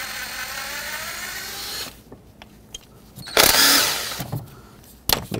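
Bolts come off an ignition coil bracket on a 2003-2021 Chevrolet Express with a 7 mm socket tool, brief whirring and ratcheting bursts separated by clinks and handling noises, close and fairly loud after a steady hum fades.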